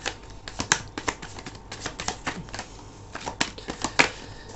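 Tarot cards being shuffled and drawn by hand, a string of crisp, papery flicks and snaps in uneven bursts, fairly close and with no talking.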